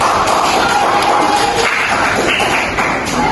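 A classroom group claps for the first presenting team, a dense, loud patter of many hands that continues without a break.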